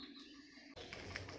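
Pigeons or doves cooing nearby in a home setting, a soft steady murmur of low calls, louder and busier in the second half with some clatter and background noise.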